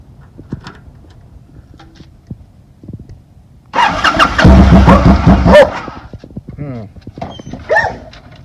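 A motorcycle engine cranks and catches, running loud and close for about two seconds before dropping away, with scattered handling noises and talk around it, right after fresh handlebar grips have been fitted.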